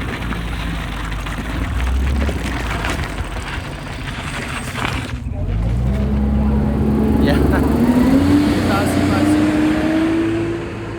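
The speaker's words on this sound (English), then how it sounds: "So the buses pass you by like this." A bus passes close by on a road in Zion National Park, its engine rumbling loudly and a rising whine climbing in pitch as it goes past, steady traffic noise throughout.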